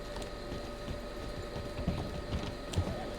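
Horse hooves clip-clop steadily in a video game as riders gallop to meet a moving train, a soft repetitive thudding rhythm under a constant low game hum.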